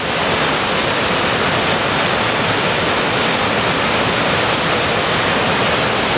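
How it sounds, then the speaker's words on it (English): The Boulder River near Big Timber, Montana, rushes over a naturally formed rock spillway in June, a loud, dense, unbroken roar of falling water from start to finish. "a lot of it actually hits this spillway, naturally created spillway, and goes on over and over the edge of the spillway right there"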